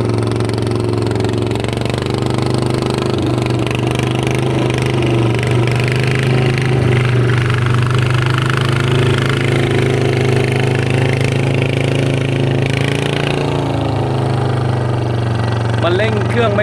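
Engine of a new rice-paddy tilling vehicle running steadily in a field, a loud continuous mid-pitched drone with a strong low hum throughout, close by, with a voice talking over it.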